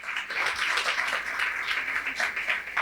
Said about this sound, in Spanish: Si tú lo crees, dale un aplauso al Señor.